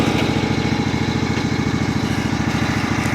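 A Briggs & Stratton Vanguard engine on a Simplicity Regent mower idles close by, a loud, even, rapid low thrumming pulse that holds steady with no talking.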